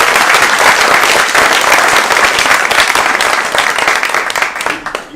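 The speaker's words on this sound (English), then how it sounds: "We can just applaud all night" An audience in a hall applauds loudly and continuously after a talk, with a dense wash of clapping that stays full for most of the stretch and then thins slightly toward the end.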